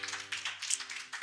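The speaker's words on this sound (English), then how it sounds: "Let's give the Lord a hand clap of praise" A church congregation clapping in praise during a worship service, a short burst of rhythmic hand claps held under a sustained low musical tone, fairly faint.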